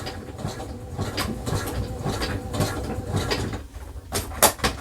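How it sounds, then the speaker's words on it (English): Sewing machine back stitching a fabric sling bag, a close mechanical clatter with short bursts and pauses, ending in a couple of sharper clicks. "Back stitching, giving it a little extra love."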